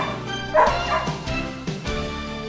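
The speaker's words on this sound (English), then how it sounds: "To stop excessive barking and potential complaints from the neighbors." A dog barks a few times at moderate distance, giving short yips and bow-wow barks at an irregular rhythm over a steady background hum.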